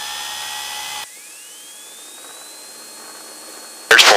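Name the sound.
small training airplane engine at full power during takeoff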